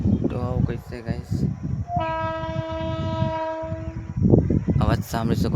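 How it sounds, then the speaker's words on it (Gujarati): An arriving train sounds a loud, sustained horn blast of about two seconds in the middle, with a person talking before and after it over steady trackside rumble. "હોર્ન ગાઈસ તમે સાંભળી શકો છો અવાજ એમનો."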